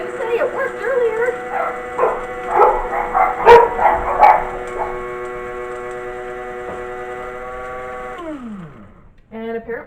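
Dogs bark and yip repeatedly over the steady loud hum of a running coffee grinder in a home kitchen, the grinder whirring on after the barking fades, then winding down.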